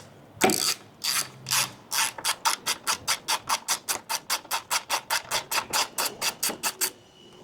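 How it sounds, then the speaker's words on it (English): A ratchet backs out the two 1/2-inch tank fastener bolts on a 2015-2023 Road Glide motorcycle: one initial knock, then a long, steady run of about thirty crisp, evenly spaced clicks, close up and alone. "Next, we're going to be removing the 2 tank fastener bolts."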